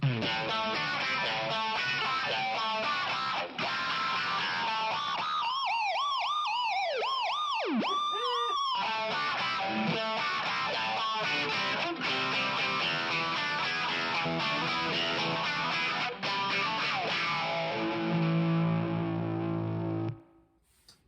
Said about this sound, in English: We can sort of create a high pass kind of envelope filter auto wah kind of thing.